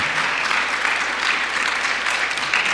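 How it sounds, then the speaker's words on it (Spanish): A church congregation applauding, a sustained dense patter of many hands that swells slightly in waves and stays fairly loud and even throughout. "Dale un aplauso al Señor."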